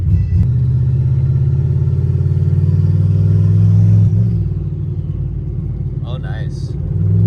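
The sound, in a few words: LS-engine car with On3 turbo kit accelerating under boost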